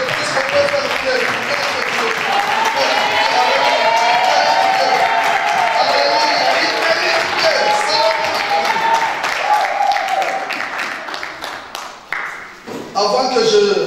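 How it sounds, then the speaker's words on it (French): A large church congregation applauds and cheers continuously, a dense roar of clapping and voices that thins briefly before swelling again near the end. "Est-ce qu'on peut nous donner notre temps d'acclamation?"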